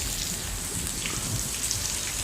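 Dense, steady roar of heavy rain pouring down continuously, with no voices.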